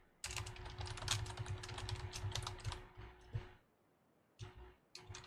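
Keys clatter in fast, steady bursts on a computer keyboard while a sort function is typed during a programming lecture, with a brief pause before a few more keystrokes; close and clear, with no talking.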